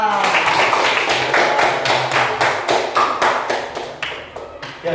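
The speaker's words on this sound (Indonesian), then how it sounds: "Beri tepuk tangan." Classroom students clap in a rhythmic series of sharp, evenly spaced claps that fade toward the end, with voices heard faintly underneath.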